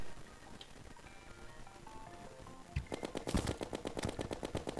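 Terraria machine-gun fire starts partway through as a rapid, even burst of loud shots over quieter game music and effects, continuing steadily to the end.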